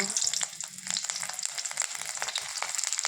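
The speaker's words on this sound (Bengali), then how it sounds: "তারপর দুটো কাঁচা লঙ্কা দিয়ে দিলাম, 5 ফোড়ন দিলাম" Two green chillies and five-spice seeds sizzle in hot oil, a bright continuous crackle with quick popping spatters, close and steady, with no talking.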